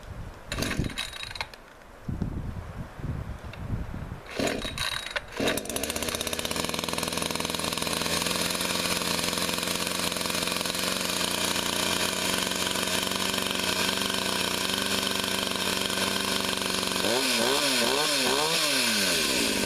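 A chainsaw's small engine sputters through a few rough start attempts, then catches and runs at a loud, steady idle for the rest, with a brief revving wobble near the end.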